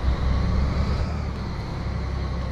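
A Scania 112h Intercooler truck engine in Euro Truck Simulator 2 holds a steady, deep, over-revved drone with a constant low rumble and no talk over it.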